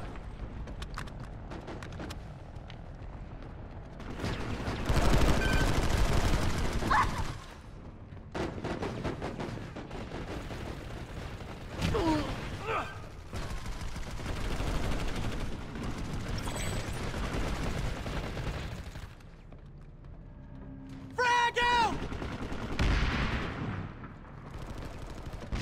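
Repeated bursts of gunfire and heavy weapon blasts from the online shooter PlanetSide 2, loud and dense in several waves across the whole stretch, with brief lulls between volleys.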